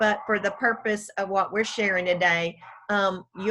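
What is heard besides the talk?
No distinct noise like a dog, phone or traffic.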